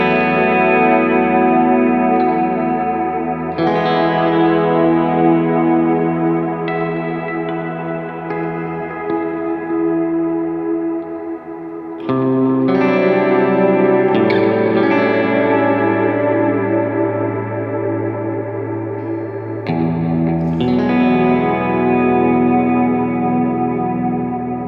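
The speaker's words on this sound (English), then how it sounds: "the rest of it is really just kind of different flavors and tempos and subdivisions of delays" Guitar runs through an ambient delay pedal, slow chords swelling and trailing off in long echoing repeats with a spacious reverberant wash, loud and continuous with no talk.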